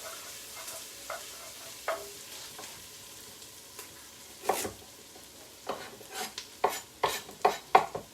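Onions fry in a pan for mulligatawny soup, a faint sizzle broken by sharp utensil scrapes and clinks that grow louder and quicker toward the end, with no talking.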